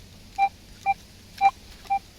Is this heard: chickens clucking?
no